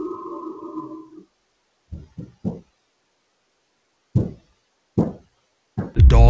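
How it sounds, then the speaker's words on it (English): A heavy bench slams into a basement wall in a reputedly haunted house, heard as a few sharp, separate thuds spaced through otherwise quiet air, the last one loud and close. "a heavy bench then slams into the wall"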